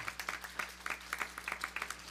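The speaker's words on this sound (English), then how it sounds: "as our ushers take their seat, give them a hand clap of encouragement" Church congregation clapping for ushers as they take their seats, a steady patter of many hands with moderate loudness throughout, no talk over it.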